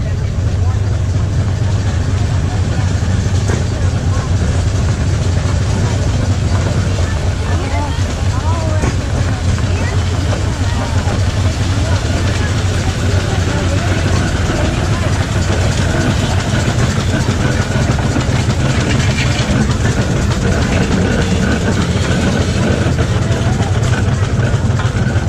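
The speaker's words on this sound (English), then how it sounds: "Here's that steamroller again." A steamroller engine runs at a tractor show with a steady low, loud rumbling drone throughout, mixed with outdoor background noise and some talk.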